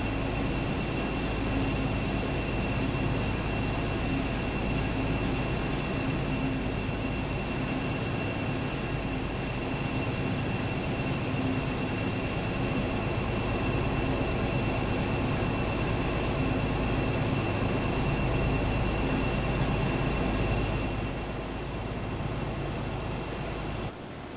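A BR218 diesel locomotive runs on the Birmingham Cross City Line in a train simulator, giving a steady, continuous rumble and drone with faint high whistling tones, alone and unbroken throughout.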